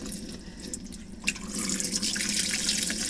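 Running tap water pours into a sink while clip-in hair extensions are rinsed. The steady splashing stream grows fuller and brighter partway through, and a small knock sounds just before the flow intensifies.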